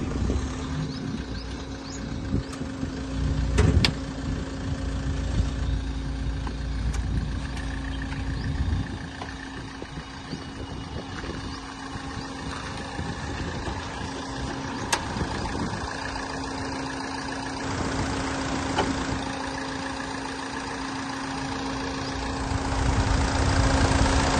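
A Toyota Etios engine idles with a low, steady hum, broken by occasional clicks and knocks; no one speaks.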